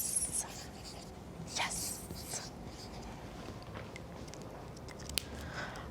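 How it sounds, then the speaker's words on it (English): Pen or pencil scratches across paper in a few short, quiet strokes, close and soft, with hushed whisper-like speech nearby. "Let's write yes in both columns."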